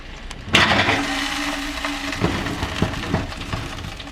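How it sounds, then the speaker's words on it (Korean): A Thanksgiving turkey dinner sizzling in a home kitchen, with a steady broadband crackle and hiss that starts abruptly near the beginning and keeps going, dotted with small pops. "소리, 소리 들려? 지글지글 지글."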